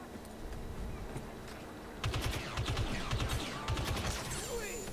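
Rapid bursts of blaster fire in the Star Wars Battlefront 2 shooter, a quiet hum at first and then dense repeated volleys from about two seconds on. They sound close and loud over a low background rumble.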